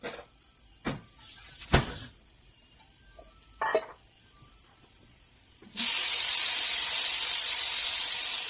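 Chickpeas cooking under pressure send out a sudden loud, steady hiss of steam partway through. It follows several scattered clicks and knocks in an otherwise quiet kitchen.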